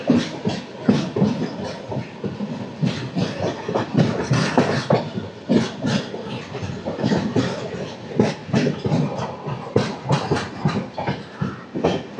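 Golconda Express passenger train pulling away from Mangalagiri station, a rhythmic series of close rail clacks and thumps repeating steadily as it gathers motion, with no talk over it.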